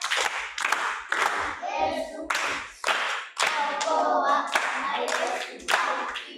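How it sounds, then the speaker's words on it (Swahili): Audience clapping at a Swahili teaching session with children present, with dense hand claps in irregular bursts throughout, mixed with a few brief voices. "Tupige makofi kwanza"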